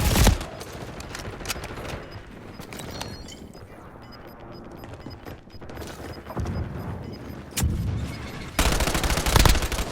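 Rapid bursts of gunfire in the online shooter Warzone, a Resurgence match, crackling in repeated volleys with louder, closer shots near the end.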